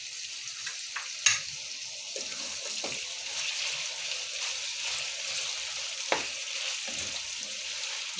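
Grated ginger and garlic frying for biryani, a soft continuous sizzle with occasional stirring clinks and scrapes in the pan, fairly quiet and without talk.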